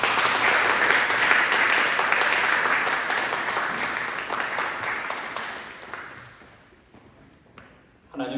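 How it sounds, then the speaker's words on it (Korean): Church congregation applauding as the pastor comes forward at a Korean Sunday worship service in Dallas, a dense, loud burst of many hands that gradually thins and fades to near silence, with a brief clatter at the end. "목사님 나오실 때 우리 뜨거운 박수"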